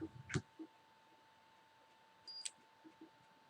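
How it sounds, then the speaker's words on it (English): A faint electronic beep from a Cefaly device sounds once amid a quiet room, preceded by a soft click and followed by a few small taps. "There's the beep."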